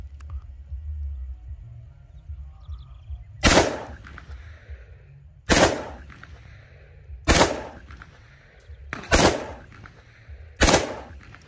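A handgun loaded with original factory ammunition fires five sharp, loud shots spaced about two seconds apart, each a sudden crack with a short ringing tail over faint background noise.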